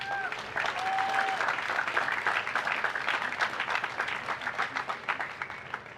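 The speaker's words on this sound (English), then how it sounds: "another round of applause" An outdoor festival crowd at a lobster festival coronation applauds the judges: dense, sustained clapping from many hands at moderate distance, with faint voices and a brief tone audible early on.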